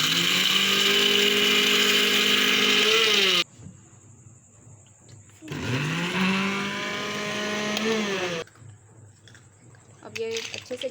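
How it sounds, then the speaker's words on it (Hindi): A blender grinding mint margarita ingredients with lemon juice, a loud steady whirring roar that cuts off, restarts with a rising spin-up and runs again before stopping once more. "चलिए अब मैं इसमें सारी चीज़ें डाल के तो इसको ग्राइंड करना शुरू करूँगी।"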